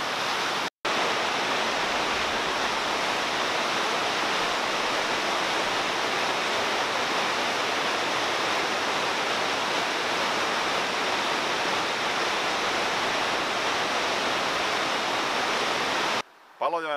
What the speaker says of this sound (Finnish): Tätä on laskettu jopa 16 metriä korkeaksi putoukseksi Auttijoessa.